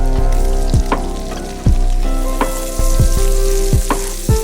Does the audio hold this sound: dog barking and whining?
no